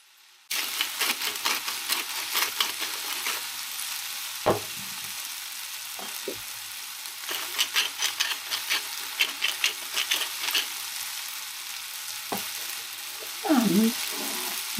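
Tomatoes and baby courgettes frying in a pan, starting abruptly with a steady close sizzle that crackles and pops, with occasional clinks and scrapes of a utensil stirring.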